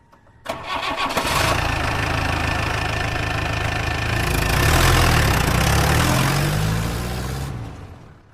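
A vehicle engine turns over and catches, then runs at a steady, loud idle close by for several seconds, rising slightly in the middle before cutting off near the end.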